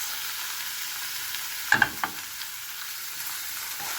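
Red onion and tomato sizzle in a hot pan, a steady hiss broken by a few clattering stirs of a utensil partway through, close and moderately quiet.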